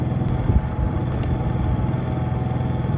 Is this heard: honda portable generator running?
yes